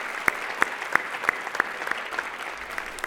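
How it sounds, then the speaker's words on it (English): A few sharp, spaced claps ring out in a large event hall at a youth-of-the-year award presentation, thinning toward the end over a quiet room. "Can we give Kayla one more round of applause?"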